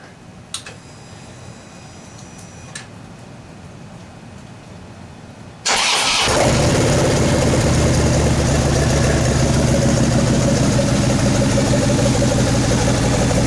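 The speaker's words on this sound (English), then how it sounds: "He's gonna fire his 2012 Screaming Eagle Street Glide up for us." A 2012 Harley-Davidson Screaming Eagle Street Glide motorcycle starts after a quiet stretch with faint clicks, then settles into a loud, steady, rumbling idle close by.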